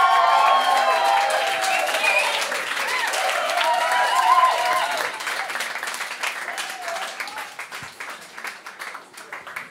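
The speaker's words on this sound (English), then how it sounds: "it'd be amazing to give the biggest round of applause you can to get Joey on stage." Audience applause and cheering fill the room as Joey Dosik takes the stage at a Songkick Live event, a loud, dense clapping crowd that holds steady before gradually thinning out toward the end.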